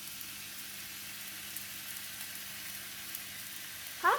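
Lap cheong fried rice sizzles softly and steadily in a pan as a spatula spreads and breaks up the rice, with a brief louder clatter right at the end.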